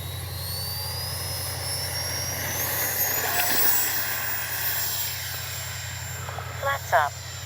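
An E-flite Viper 64mm electric ducted-fan RC jet whines overhead in flight, a steady high-pitched rushing tone that rises slightly and holds, over constant low wind rumble and outdoor background noise.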